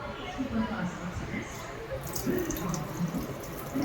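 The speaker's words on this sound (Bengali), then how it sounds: "জল পড়ছে, বেশ ভালো।" Water running from a washbasin tap on an Indian train, a steady close splashing stream over the train's rumble, with a voice talking over it.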